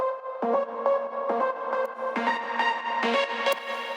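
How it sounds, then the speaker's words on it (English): A big-room EDM drop lead synth soaked in heavy reverb, playing sustained chords with rhythmic re-triggered stabs, loud and washy with long tails, alone with no talking. "Plus drop lead drowned in reverb."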